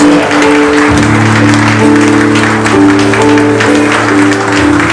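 A church congregation claps together during a Sunday worship service, a steady, dense wash of applause lasting throughout, with sustained keyboard or organ tones ringing underneath.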